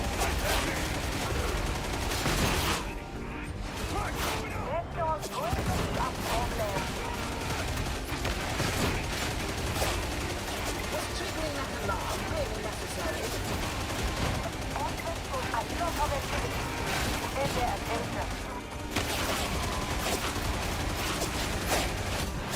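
Rapid gunfire from the video game Darktide, dense bursts of automatic shots and heavy weapon blasts crackling continuously and loudly, with a player talking over the chaotic battle.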